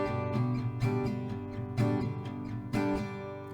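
An acoustic guitar is strummed in an alternating down-up pattern for a song, giving several full, ringing chord strokes with accented beats in a steady rhythm. It is close and loud, with no talking.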